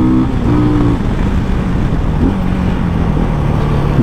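A Benelli TRK 251 motorcycle ridden on the road, its engine a loud, steady drone with small shifts in pitch as it pulls along, continuous throughout with no talk over it.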